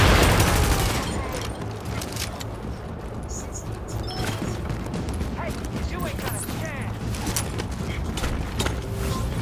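Gunfire from hostile enemies in The Division, a steady loud run of shots and mechanical clatter that goes on throughout, with a dense burst at the start.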